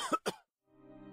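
An old man gives two quick, harsh coughs close by, then after a brief pause a low, drawn-out throat-clearing rumble follows.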